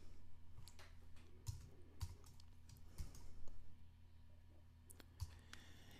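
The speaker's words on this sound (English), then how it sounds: "It's so hard to type and talk at the same time." Quiet typing on a computer keyboard: irregular light key clicks with a few sharper taps, close and faint, over a low steady hum.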